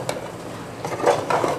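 Chicken with spices frying in a pan for a Murgh Do Pyaza, giving a soft, low sizzle with faint stirring scrapes and small clinks. No one speaks.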